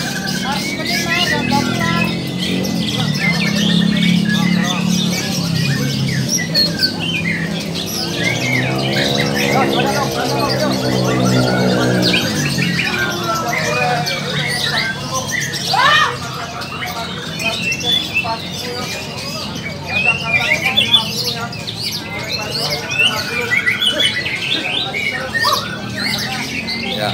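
Caged magpie robins and other songbirds sing and squawk at a bird-singing contest, rapid chirps and calls overlapping with announcer talk and crowd noise throughout.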